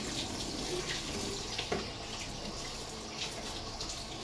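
A plate is washed under running water in a sink, a steady quiet stream with faint clinks and splashes throughout, heard close and without voices.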